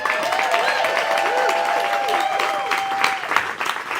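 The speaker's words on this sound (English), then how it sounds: "let's give Brittany and Saxon Bailey, or Ballard, a giant round of applause" An audience at a live storytelling show bursting into sustained, even applause, a full room of steady clapping with faint crowd noise and a high ringing tone underneath.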